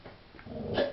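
A dog barks and growls in the background of a room, faint and distant, with a short rising yelp near the end of a brief stretch.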